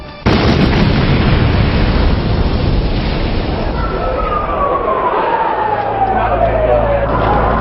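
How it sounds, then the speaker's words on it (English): A van bomb exploding in the underground parking garage beneath the North Tower of the World Trade Center, a sudden, very loud blast that rolls into a sustained rumbling roar, with a falling whine and a low hum emerging later. "the van exploded."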